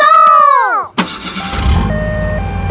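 A cartoon super car's engine catches with a sudden burst after a falling tonal sweep, then settles into a steady running hum as it sets out.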